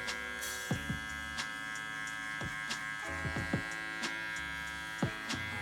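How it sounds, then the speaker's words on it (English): Electric hair clippers with a number 3 guard and the lever fully open buzz steadily and quietly through a men's haircut taper, punctuated by small clicks and brushing contacts as they pass over the hair. "throw on the number 3 guard, lever fully open, so that I can just taper out a little bit of this hair right here"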